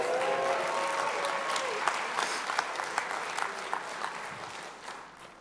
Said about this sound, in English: Give the Lord a good hand clap today.